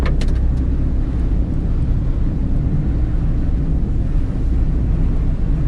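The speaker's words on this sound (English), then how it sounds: "You can see I am driving over a very wet road and I am not running out of confidence while driving this car." Steady, loud broadband road roar and tyre hiss from inside a 2020 Tata Tiago driving along a very wet city road, continuous and close with no talk.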